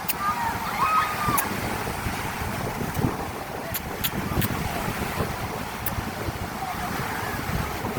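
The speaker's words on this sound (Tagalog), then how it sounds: "Grabing alon" A constant roar of surf from big waves at Boracay beach mixed with blustery wind noise, with waves rushing steadily and a few faint clicks on top.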